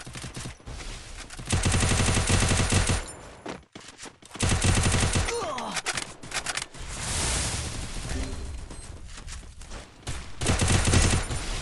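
Bursts of rapid gunfire in the game Free Fire crackle in dense volleys, with short pauses between, loud and continuous over a busy background.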